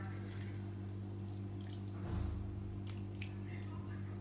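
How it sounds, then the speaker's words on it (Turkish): Water is poured into an eggplant kebab dish, with a brief splashing trickle midway over a low steady hum, fairly faint and without talk. "Şimdi suyunu veriyorum yemeğin."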